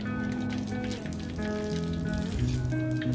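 Mustard, cumin and fennel seeds sizzle in hot oil with a steady crackling hiss, while tonal background sounds run underneath.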